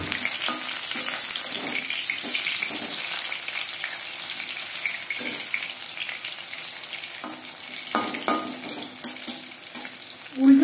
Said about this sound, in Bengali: উল্টে পাল্টে ক্রিস্পি করে ভেজে দেবে।